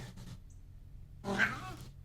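A person imitates a cat's meow: one drawn-out, whiny mew after a brief pause, close and clear.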